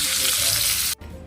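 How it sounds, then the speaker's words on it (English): A floured beef roast searing in a skillet with a little oil, a loud close hissing sizzle that drops away abruptly near the end, leaving a quieter residual fry. "I have it in a skillet with just a little bit of oil, not much. Because I want to get that, look at that sear"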